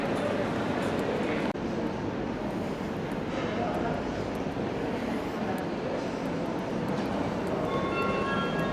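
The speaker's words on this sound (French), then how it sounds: "C'est marrant cette locomotive là." Train locomotive idling at an Irish railway station, a steady broad rumble throughout with a brief jolt early on and a faint high tone near the end, as a station announcement plays over it.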